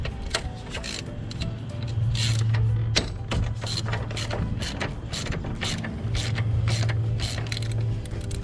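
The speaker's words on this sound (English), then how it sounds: "remove the actual bolts that hold the caliper bracket into place. Loosen them both first before you remove one of the bolts." Socket ratchet working loose the caliper bracket bolts on a Can-Am Renegade/Outlander ATV, with repeated close clicking pawl strokes and creaks in short bursts across the whole stretch, no talking.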